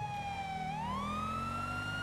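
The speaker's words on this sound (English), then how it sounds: "So the siren audio may bounce a little bit." Police car siren in GTA 5 with the LSPDFR mod, a steady electronic wail sweeping slowly upward and holding, loud and continuous over low engine rumble, no talk.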